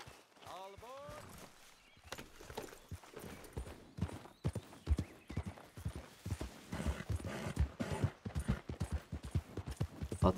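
Horse hooves clip-clop in a video game, a steady run of close, sharp hoof strikes with a short whinny near the start.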